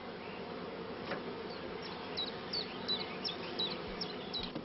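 Honey bees buzz steadily around a hive where a caged queen hangs between foundation frames, a continuous close hum with individual bees droning past in short rising and falling passes.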